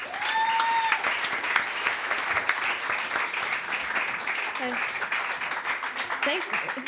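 An audience applauds a singer taking the stage at a live music night, warm continuous clapping at moderate volume that gradually thins, with a few voices briefly audible through it.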